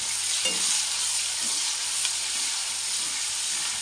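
Chopped onion frying in hot oil with cardamom for a fish curry, a loud steady sizzle and hiss that holds close and unbroken throughout, with faint stirring scrapes near the start.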